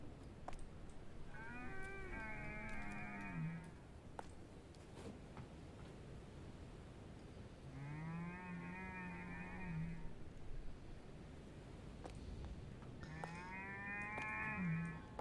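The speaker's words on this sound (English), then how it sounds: "Sounds like a cow, doesn't it?" A cow in the horror video game Night Delivery by Chilla's Art lets out three long, drawn-out moos with pauses between them, over a constant low rumbling ambience.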